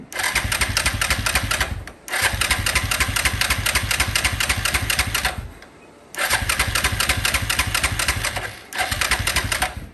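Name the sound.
Yamaha Grizzly 660 four wheeler engine starting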